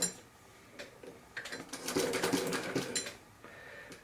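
An industrial sewing machine stitching outdoor gear whirs in a rapid mechanical chatter that builds and holds steady before easing off, close and clear with no voice over it.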